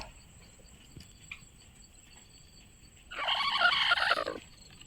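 A brooding hen sitting on free-range eggs lets out a loud, harsh burst of squawking clucks lasting over a second near the end, after a long quiet stretch with faint rustles.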